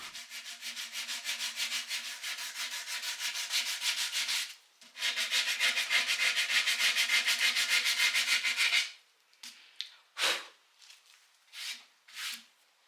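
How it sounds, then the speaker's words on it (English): Wood filler patches on a set of bedside tables being hand-sanded with 180 and then 240 grit sandpaper, a steady loud scratchy rubbing in two long runs with a short pause, then several brief separate strokes. "It's now time to sand the parts that I filled. So I go on with 180 grit and work my way up to 240"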